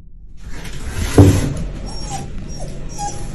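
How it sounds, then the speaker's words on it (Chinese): A restless pet dog whimpers and whines indoors in short high-pitched yips, with a sharp thump partway through and faint household noise behind. "原本温顺乖巧的狗狗忽然变得急躁不安了起来"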